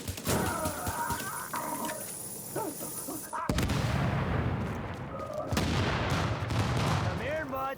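Gunfire from a shooter video game featuring Sentry, loud and dense with booming artillery-like blasts and rapid volleys continuing throughout, with a distinct shift in texture partway through and a voice speaking under the shots.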